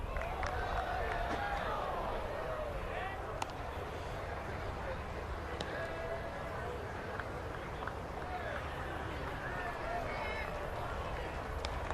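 A big spring-training baseball crowd at Diablo Stadium in Tempe murmurs steadily throughout, with occasional faint claps or thuds, under continuous talk from an announcer.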